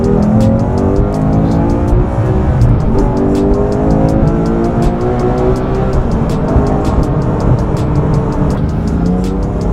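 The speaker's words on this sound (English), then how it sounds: "I just love the sound of that exhaust" A Porsche 911 R's exhaust roars loudly and steadily, the engine note rising and falling as it revs, with a constant rumbling drone throughout.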